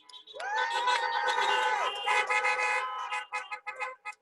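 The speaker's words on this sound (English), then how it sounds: "30 years deserves more honks." Several car horns honk together in a long overlapping blare, then break into shorter scattered toots, loud and nearby.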